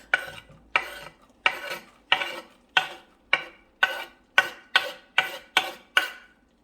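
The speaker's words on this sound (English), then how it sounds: "So we will stir it a bit with the garlic and let it cook for about 2 minutes." Garlic cooks in melted butter over medium heat in a pan while a utensil stirs it. About a dozen evenly spaced scraping, sizzling strokes repeat in a steady rhythm, close and fairly quiet.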